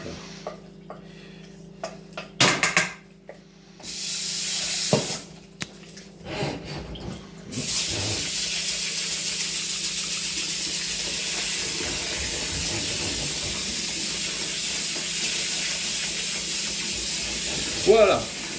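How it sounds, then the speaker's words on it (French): Water running steadily over cooked rice in a pot to rinse off the starch, a loud continuous hiss after some brief clatter and voice near the start. "Et on en profite pour le rincer un peu, pour enlever l'amidon."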